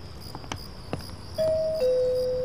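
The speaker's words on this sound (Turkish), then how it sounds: "Hadi çal şu zili artık." A doorbell chimes in two steady tones, one after the other, clear and close over faint background hiss and a few clicks.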